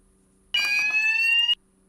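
An electronic alarm goes off during a live stream, a single steady piercing tone about one second long with a brief noisy onset, cutting off abruptly, moderately loud against near silence.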